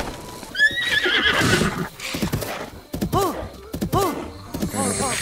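A horse in Breath of the Wild neighs and whinnies repeatedly in loud, close bursts, mixed with hoof clip-clops and thuds as it bucks.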